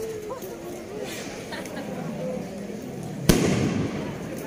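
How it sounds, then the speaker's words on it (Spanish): A single sharp firework rocket bang cracks out from a distance, followed by a rumbling tail, over steady street chatter and background murmur in central Oaxaca, Mexico. "Se oyen unos cohetes."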